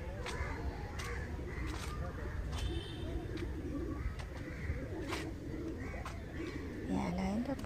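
Pigeons coo repeatedly amid a busy outdoor setting at a pond where deer feed, soft rounded calls and other bird sounds recurring over steady background noise while people talk nearby.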